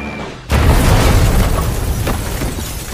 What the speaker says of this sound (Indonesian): Tepat di saat itu juga, bom jatuh ke rumah dan berhasil membunuh Hollow.